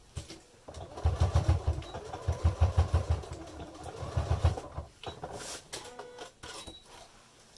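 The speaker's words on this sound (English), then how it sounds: "Just sewing purely on that one top layer of fabric with the interfacing behind" A sewing machine stitches through a single top layer of fabric backed with interfacing while making a bag, running in several rapid bursts of close, steady mechanical whirring separated by short pauses, then falling quiet toward the end.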